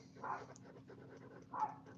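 Two faint, distant dog barks, spaced about a second apart, over a low steady background hum.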